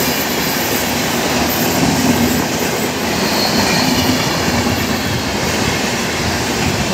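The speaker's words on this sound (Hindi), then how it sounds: "ग्वालियर दाउंड एक्सप्रेस।" The 22194 Gwalior–Daund superfast express runs through Shivajinagar station without stopping. Its loud, steady rumble of rolling wagons and clattering wheels fills the whole stretch, close by and continuous, with no voices.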